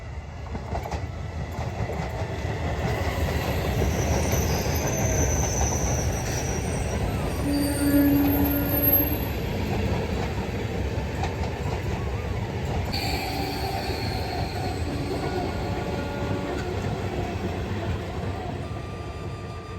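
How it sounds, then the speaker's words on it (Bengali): A train passes close by with a steady rumble and rattle of wheels on rails, high metallic squeals cutting through now and then. "ট্রেন আসার সময় হয়ে গেছে আজকে খুব কাছ থেকে তোমাদেরকে ট্রেনটা দেখাবো"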